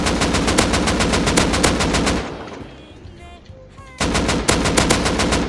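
Rapid automatic gunfire in the survival game Rust during a house raid and defense, with dense loud bursts, a short lull of scattered distant shots, then heavy firing resuming.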